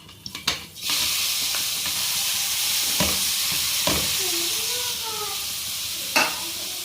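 Chopped carrot sizzling and frying in melted ghee in a pan, a steady close hiss with a few stirring scrapes, no talking.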